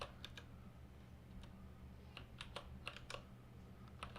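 Typing on a computer keyboard during a livestream comes through as soft, scattered key clicks in short irregular bursts over a low background hum, fairly quiet and close, with no talking.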